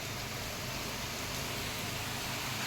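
Steady rain falls as a dense, even hiss of broadband noise, continuous and moderately loud, with no voices.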